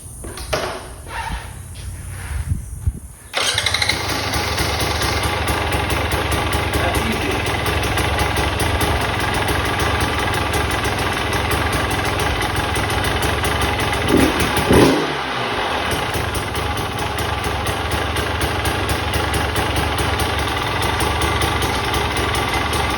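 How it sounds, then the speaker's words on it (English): A 2022 KTM 300 XC-X TPI two-stroke dirt bike engine starts up and settles into a steady, close, continuous idle with a buzzy rasp that runs throughout, and a brief blip partway through. "I'll do just a little startup video so you can hear what it sounds like."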